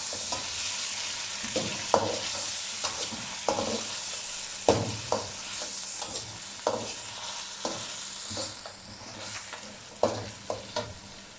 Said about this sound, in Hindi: अब इसमें टमाटर और हरी मिर्च डाल देते हैं। 2 मिनट के लिए इसे भून लेंगे।